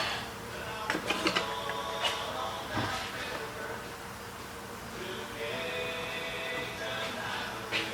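Metallic clunks and scraping as the alternator on a Ford 4.0L V6 is rotated forward and pulled out of the engine bay, several sharp knocks early on followed by softer rubbing and shifting, moderately close.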